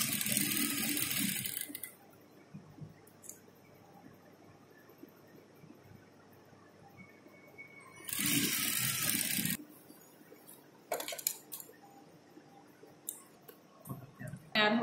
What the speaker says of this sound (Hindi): सेंटर नाल सेंटर मिला के सिलाई लगानी शुरू करनी है।